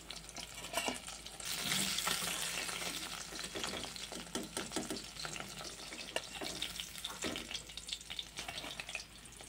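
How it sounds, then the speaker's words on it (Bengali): Rohu fish pieces fry in hot oil in a wok, a steady crackling sizzle broken by occasional scraping and clinks as the pieces are turned, close and fairly loud throughout with no speech. "মাছগুলোকে উল্টিয়ে পাল্টিয়ে এই যে ভেজে নিয়েছি।"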